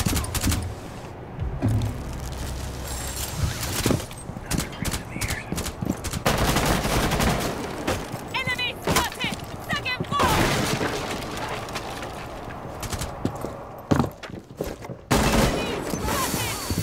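Gunfire in the video game Rainbow Six Siege, aimed at batteries and a mirror on a wall, comes as repeated loud bursts with rattling impacts and pauses between them. Voices talk intermittently over the shooting.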